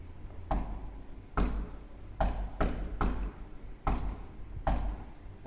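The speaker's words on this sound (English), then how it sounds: "we will knock the same pattern again to see if we can open the door or not" Seven sharp knocks on a door in an uneven pattern, close and distinct, each hit followed by a short ring-out in a quiet room.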